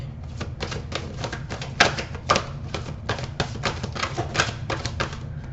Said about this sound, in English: I'm going to just do three shuffles